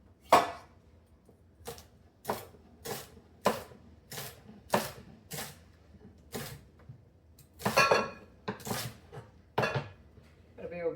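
A knife chopping celery stalks on a cutting board, about a dozen crisp separate cuts at a steady, slightly uneven pace, close and clear with quiet gaps between strokes.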